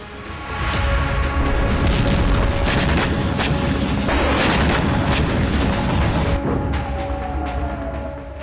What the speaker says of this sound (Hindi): जहां हिजबुल्लाह का रॉकेट रिहायशी इलाके पर जाकर गिरा, जिसके बाद जबरदस्त धमाका देखा गया।